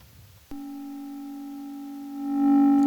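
A Serge modular synthesizer puts out a steady frequency-modulated tone, one audio-rate oscillator modulating another's frequency with sine and triangle waves; the glassy, harmonic-rich note starts abruptly and holds, swelling louder near the end.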